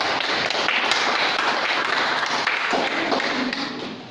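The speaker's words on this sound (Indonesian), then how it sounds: "Berikan aplaus untuk kelompok 2" A classroom audience gives a group of students a round of applause after their presentation: dense, steady clapping from many hands, fairly close and loud, holding for about four seconds before easing off slightly at the end.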